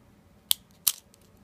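Two sharp, quiet clicks, about a third of a second apart, as the eraser refill of a Coleto multi-pen is pressed down, close by with no talk.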